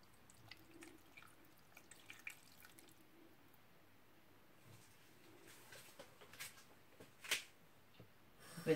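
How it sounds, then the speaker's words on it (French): Water goes into a pot of oxtail soup in faint, scattered drips and trickles that build to a brief louder pour near the end, with no talk. "je viens y rajouter de l'eau."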